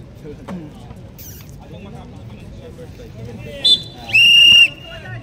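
At an amateur basketball game in Dubai, a referee blows one short whistle, then a longer shrill blast, over crowd chatter and the noise of the court.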